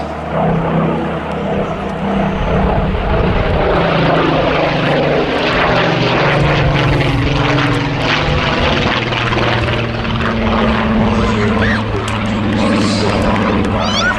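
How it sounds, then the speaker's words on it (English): Supermarine Spitfire Mark 19 making its last pass in a flying display at an air festival, a loud continuous propeller-engine roar with a steady drone throughout, close and dominant. "Put your hands together, ladies and gentlemen, for the Spitfire Mark 19. Beautifully displayed there by Chris."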